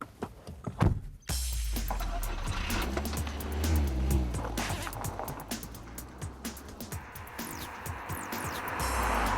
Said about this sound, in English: if you've ever wondered what a fiery Spanish VW would be like, it'd be a lot like this, the Seat Leon